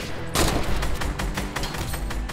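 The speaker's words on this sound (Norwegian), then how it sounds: "Der ja, der snakker vi skudd" Rapid bursts of gunfire from a Fortnite match crackle close and loud, a dense fusillade of overlapping shots running continuously with brief sharp peaks.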